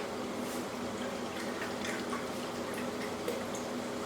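Liquid is poured steadily into a pot for creamy mushroom pasta, making a continuous soft splashing and trickling wash with no talking.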